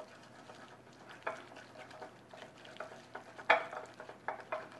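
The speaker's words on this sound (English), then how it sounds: "And start mixing them up." Peanut butter pancake batter being stirred in a bowl, with soft scraping strokes and a few sharper clicks of the utensil against the bowl, faint and close, without speech.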